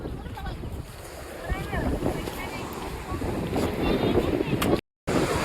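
Sea waves wash in at a beach in a steady, rushing roar, mixed with gusty wind buffeting the microphone and distant voices, swelling louder toward the end.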